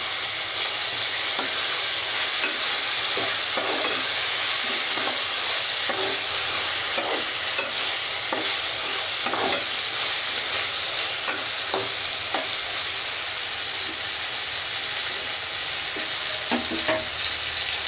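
Steady oil sizzle with repeated scraping of a spoon as ginger garlic paste is stirred in a pan, close and continuous.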